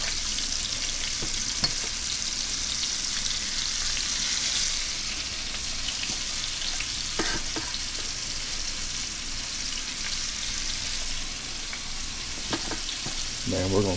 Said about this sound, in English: we're gonna slow fry these suckers